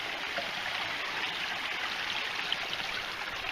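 A small forest creek flows steadily nearby, a constant soft rushing and trickling hiss with no breaks and no one speaking.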